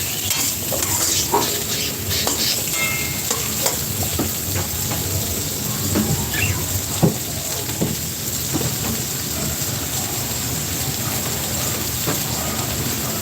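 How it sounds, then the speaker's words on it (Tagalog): Carrots and potatoes sizzle and crackle steadily in hot oil in a pan, with repeated scraping and clinking of a utensil stirring them, close and continuous for holiday cooking. "Prito muna natin ng bagya yung ating carrots at patatas."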